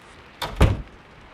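A single heavy door bang as wind slams the door shut, preceded by a softer thump, then quiet; fairly close and loud.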